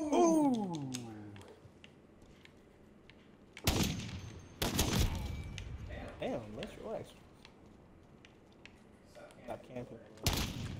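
Sharp gunshots from a Rytec AMR sniper rifle crack in Modern Warfare private-match play, a few loud separated shots amid clicking and frequent player chatter.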